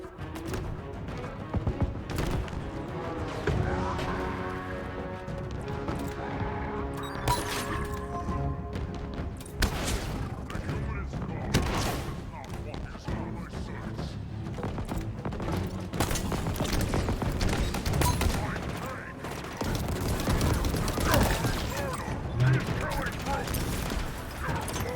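Disruptor gunfire in Halo Infinite comes as bursts of crackling electric shots and impacts against a busy game mix of music and rumble, fairly quiet overall, with someone talking over parts of it.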